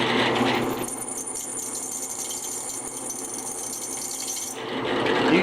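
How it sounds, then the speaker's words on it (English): A steady drill press whine runs for several seconds while drilling a knife workpiece, with a louder burst at the start and end as the bit engages. "Just use constant pressure on your drill press."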